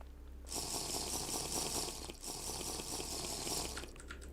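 Flowing fresh water in the TerraFirmaCraft Minecraft modpack, a steady rushing splash that starts abruptly, runs continuously at moderate level, and briefly dips midway before continuing.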